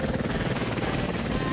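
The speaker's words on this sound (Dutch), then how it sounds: "Een echte helikopter?" A steady, loud helicopter rotor drone with a continuous low thumping throb and engine whine, filling the whole stretch without pause.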